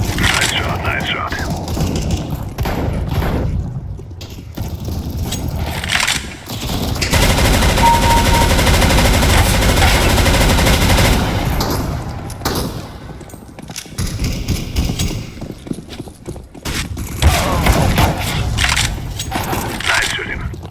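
Rapid bursts of automatic gunfire in the video game CS:GO during an arms race match, loud crackling volleys, one long sustained burst in the middle, with brief voice lines between them.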